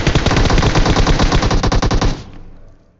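Rapid, loud video game gunfire, a dense burst of shots lasting about two seconds before cutting off and fading into a short echoing tail.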